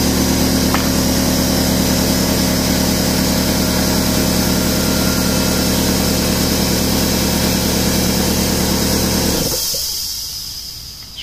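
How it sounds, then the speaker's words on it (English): An air compressor drones loudly and steadily in a workshop, a constant hum with a faint higher whine, then winds down and falls quiet near the end. "Sorry about the compressor in the background."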